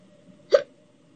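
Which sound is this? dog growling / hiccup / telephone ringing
hiccup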